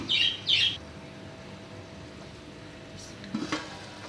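Meat curry frying in oil with stirring, a soft sizzle beneath two short loud bird chirps at the start and a brief clatter near the end.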